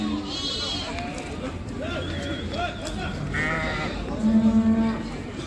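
Ewes with lambs bleat repeatedly, several animals calling close and at a distance, while people talk throughout amid busy livestock market noise in Taraz, Kazakhstan.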